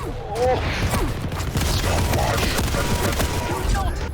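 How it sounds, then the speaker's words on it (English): Rockets explode in a fast-paced strategy game battle, a dense barrage of sharp cracking blasts and crunching impacts that rattle on continuously at close range, with a voice talking over them. "Those rockets were insane."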